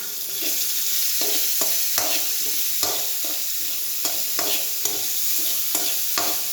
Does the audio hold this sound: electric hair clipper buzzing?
no